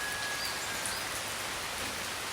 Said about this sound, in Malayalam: രാവിലെ നല്ല മഴയാണേ